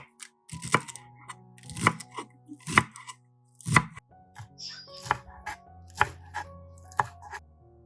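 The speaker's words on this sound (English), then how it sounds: "Cut celery and green onions into small pieces, suitable for cooking needs." A knife chops celery and green onions into small pieces on a board. About eight crisp, distinct chops land at a steady, unhurried rhythm, close and clear against quiet, with no talking.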